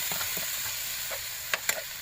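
Shrimp and small squid frying in a pan while being stirred, a continuous close sizzle with a couple of sharp utensil clinks near the end.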